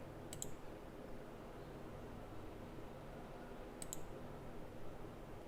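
Two brief, sharp mouse clicks on an on-screen button in tax-filing software, one near the start and one about three seconds later, each standing out against a steady low background hiss.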